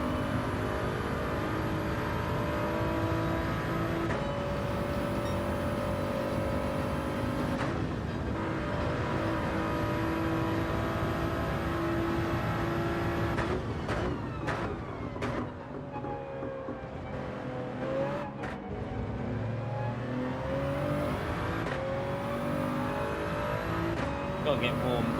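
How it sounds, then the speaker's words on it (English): A Toyota race car in Gran Turismo 7 revs steadily through its gears on track, the engine note climbing and dropping with shifts and some tire noise, while a driver talks over it. "I need to rev it out a bit more than what I'm doing as well with the early gears"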